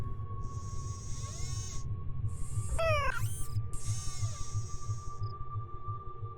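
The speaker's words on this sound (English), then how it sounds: "Who's my favorite robotic cat?" A robotic cat in the Nancy Drew video game meows in drawn-out electronic cries over a steady low pulsing hum, with a sharp rising synthetic burst in the middle.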